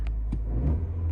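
A car engine revs briefly as the accelerator pedal is pressed after warming up, a short deep rumble that swells and eases close by.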